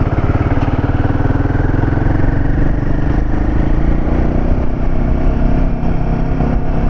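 A Royal Enfield Himalayan 450 motorcycle engine pulls hard under acceleration, a loud, steady, close mechanical drone that holds for several seconds with no talk over it.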